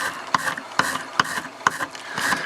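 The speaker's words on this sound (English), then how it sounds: "the wire brush, this is just a stainless steel wire brush. It does a really good job of shredding that fibrous material" A stainless steel wire brush scrubs and shreds fibrous material on a fly-tying streamer, giving rhythmic raspy strokes about every half second, close and fairly loud.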